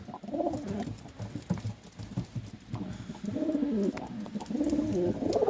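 Wild feather-footed pigeons cooing close by, soft repeated throaty coos rising and falling in overlapping phrases, with a few faint chirps and no talking.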